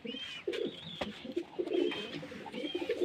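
Racing pigeons coo in a loft in Natore district, the low throaty rolling calls coming close and repeated in several bursts, with a faint higher whistle-like tone drifting in between.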